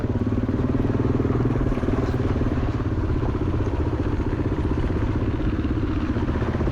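Motorcycle riding off-road on rough Moroccan rally trails, a steady loud engine drone with rattling clatter throughout, close to the rider with no pauses.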